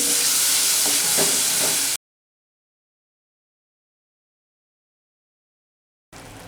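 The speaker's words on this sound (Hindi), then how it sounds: "अब हम डालेंगे पिसे हुए टमाटर। मिक्स करेंगे।" Ground tomatoes going into a pan of frying spices with garam masala and Kashmiri red chilli powder, stirred in with a loud steady sizzle for about two seconds before a long silence, then the sizzle returns briefly.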